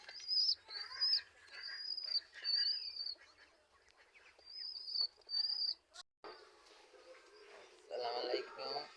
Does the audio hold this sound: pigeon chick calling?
yes